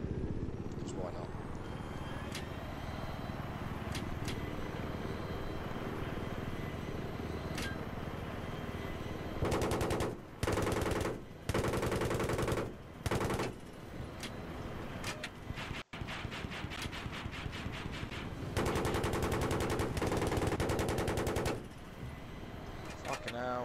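Bursts of machine-gun fire from a gunner's seat in Battlefield 3 on Xbox One come in rapid rattling volleys in the second half, cutting in and out over a constant engine drone, with talk at times.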